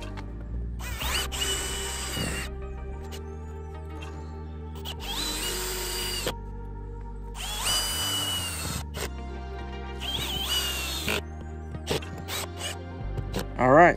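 A power drill whirs in several short bursts while driving screws into a cooler step on a Tracker Pro Team 175 TXW boat, with clicks and handling noises between the runs and a person talking.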